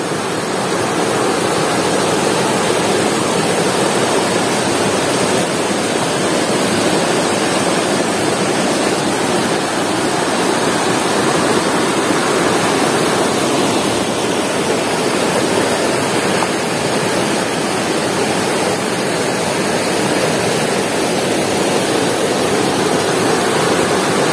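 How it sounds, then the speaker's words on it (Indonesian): Clear river water rushing steadily in a forest river at Bukit Barisan Selatan National Park, a loud, continuous broadband wash close by with no breaks and no voices. "Airnya jernih, mantap."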